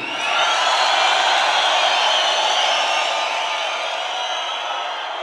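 A concert audience greets a singer with sustained applause and cheering at an acoustic rap show, a loud, dense, continuous roar of clapping and voices that fades slightly toward the end.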